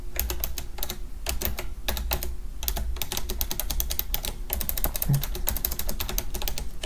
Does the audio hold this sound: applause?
no